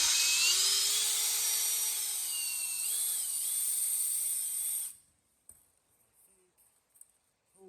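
A drill with a 17/64 bit reams a valve on a Briggs LO206 engine, a high whining drone that wavers slightly as it works back and forth. It stops abruptly about two-thirds through, leaving faint clicks and small handling noises.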